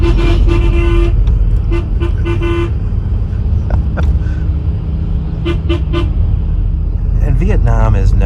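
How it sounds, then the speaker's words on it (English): Repeated car horns toot in short bursts over a steady rumble of traffic in Vietnam, heard from a sleeper bus, with more honking from nearby vehicles toward the end. "Vietnam is known for all the horns honking"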